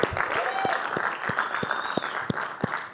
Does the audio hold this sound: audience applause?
yes